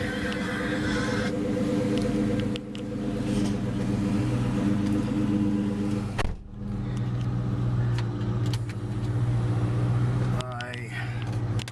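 A supercharged 2004 SVT Cobra Terminator V8 running about 14 pounds of boost idles and revs loudly up close, its rumble rising and falling with a sharp break midway, as people talk over it.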